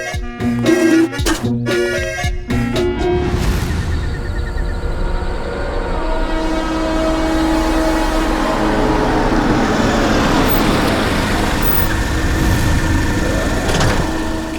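A car engine idles and drones steadily at night, stuttering with a few abrupt cut-outs early on as it starts to fail, then carrying on as a loud, continuous rumble with no talk.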